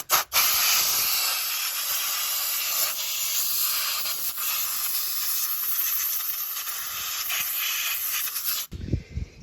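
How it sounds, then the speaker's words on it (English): Brake cleaner sprayed from an aerosol can into the fuel injector area of a second-generation Toyota Prius engine: a loud, steady, continuous hiss lasting several seconds close to the mic, then cutting off abruptly. "I like to spray a little brake cleaner in there"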